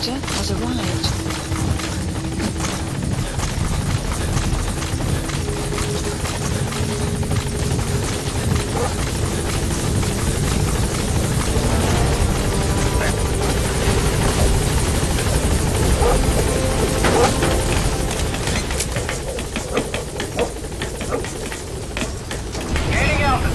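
A loud, steady helicopter rotor drone in Metal Gear Solid V with a heavy rumbling wash fills the whole stretch, constant and close, with faint voices mixed underneath.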